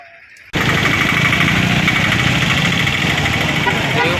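Vehicles move in and out of the Madanapalle market yard, where a long queue of produce trucks waits. A loud, steady engine rumble cuts in abruptly after half a second of near silence and holds without a break.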